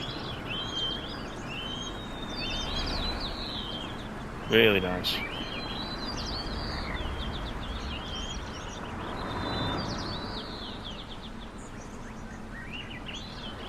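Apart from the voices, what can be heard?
birds singing, ambient sound in Fernbus Simulator video game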